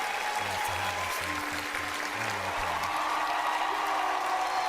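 Studio audience applause on a comedy talk show, a steady, fairly faint wash of clapping with a low tonal hum threaded through it, no voices over it.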